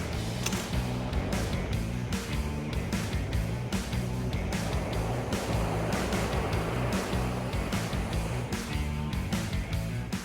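A torch heats a metal part from a muscle car's transmission swap, and the part is clamped in a vise. It makes a steady, loud, broadband roar that stays constant for the whole stretch with no talk.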